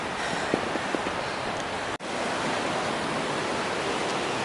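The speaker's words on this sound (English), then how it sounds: "I'm right beside the river again" A river flowing beside a hiking trail in a valley near Seavey Pass on the Pacific Crest Trail, heard as a steady, broad rushing wash of water that stays constant throughout with a brief dip midway.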